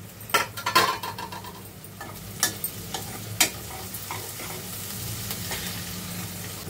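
Onion fries in a pan with a low, continuous sizzle, broken by several sharp clinks and scrapes of a spoon against the metal, close up and with no talking.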